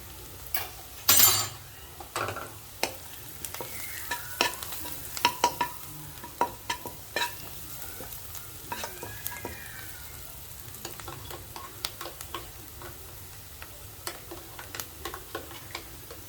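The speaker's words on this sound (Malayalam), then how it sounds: "മഞ്ഞൾപ്പൊടി, മുളക് പൊടി, മല്ലിപ്പൊടി നമുക്കൊന്ന് വഴറ്റും." Turmeric, chili and coriander powder being sautéed in a pan for stuffed capsicum masala: a low sizzle runs throughout under repeated sharp ticks and scrapes of a spoon against the pan, close and steady, with no talking.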